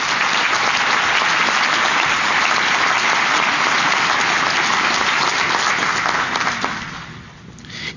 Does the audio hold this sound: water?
no